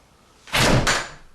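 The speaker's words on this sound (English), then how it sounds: "Okay, close the door." A front door that rubs slightly on its threshold swings shut with one solid, close thud and a short scrape, alone in a quiet room.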